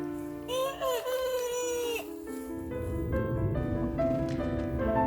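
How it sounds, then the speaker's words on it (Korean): A hoarse, husky-voiced rooster crows loudly, a long strained call followed by a second raspy crow, with farmyard clucking in the background. "지도 닭이라고 목청껏 한 번 울어봅니다. 근데 닭 소리가 왜 이래?"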